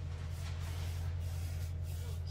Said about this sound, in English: I'm just spraying my brush.